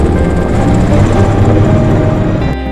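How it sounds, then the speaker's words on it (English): A supply and rescue helicopter flying near Everest in thin, cold mountain air, its loud, steady rotor thump and engine roar close and continuous, with no talk. "We see a lot more supply and rescue helicopters in the sky now."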